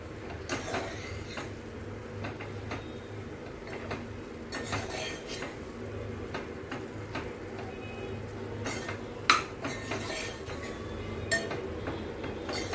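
Sprouted val beans stirred through spices in a pan, with soft scraping and occasional light metallic clinks of a spoon against the pan over a low steady background hum, close by and without talk.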